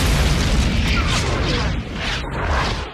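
Big explosion effect from the Armageddon movie trailer, a loud deep rumbling boom that fills the entire moment and rolls on without a break.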